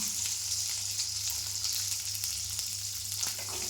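Garlic cloves and small shallots sizzle and fry steadily in hot oil with popped mustard seeds and curry leaves, a close, continuous crackling hiss with no voices.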